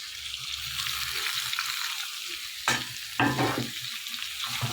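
Chopped tomato being stirred into potatoes and softened onion in a frying pan for a home-style chicken curry, a steady sizzle broken by a few louder scraping strokes of the spoon near the end.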